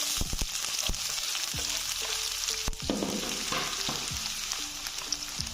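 Onions frying in hot mustard and canola oil for a tinda sabzi: a constant bright sizzle close up, with soft low knocks and scrapes of a spoon against the pan.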